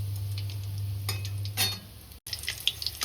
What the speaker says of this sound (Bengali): ওই জন্য একদম কম আঁচ করে করে সুন্দর করে ভেজে নিতে হবে।